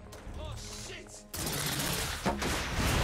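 Gunfire in the video game The Order: 1886, a burst of loud shots after a quieter opening, with a sharp crack midway and a voice talking over it.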